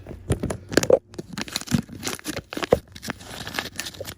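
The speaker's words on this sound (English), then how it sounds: "Cut open the package." Scissors snip and tear open a plastic package of fine lapidary grit powder. Close, crisp crinkling, crunching and ripping comes in irregular bursts, with no talking.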